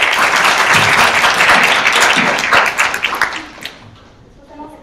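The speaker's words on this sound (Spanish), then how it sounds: "Por favor, démosle un aplauso." A crowd applauding loudly with dense clapping that fades out over the last second or two.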